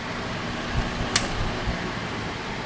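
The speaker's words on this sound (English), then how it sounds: "Just heard the compressor kick in." An off-grid air conditioner powered by a 12V LiFePO4 battery and inverter starts its compressor, producing a steady low mechanical hum and fan-like whoosh with a brief click partway through, fairly close.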